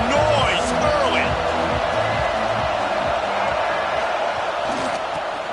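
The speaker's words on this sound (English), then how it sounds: "This crowd bringing the energy and noise early." A stadium crowd at a football game roars as a steady, dense wash of noise, with a voice talking over it throughout.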